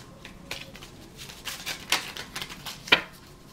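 Playing cards are handled and dropped: quiet, close shuffling with a few sharp soft slaps as cards fall, the clearest two near the end, with no talking.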